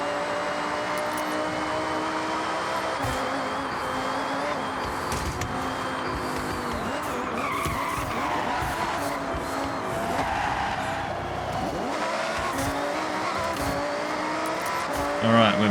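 A race car in Forza Horizon 6 brakes hard around Mount Panorama Bathurst, its tires squealing and skidding over a loud, steady engine roar, with a voice talking over the top.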